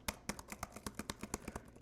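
Rapid, even keystrokes on a MacBook Neo laptop keyboard, a steady run of about fifteen crisp, close taps with no talking.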